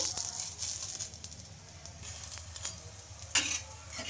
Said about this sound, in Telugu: ఇంకా ఆయిల్ అయితే వేసేసుకొని ఇంకా ఇంకొక సైడ్కి అయితే తిప్పేసుకోవాలండి